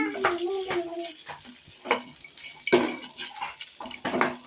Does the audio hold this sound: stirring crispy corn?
yes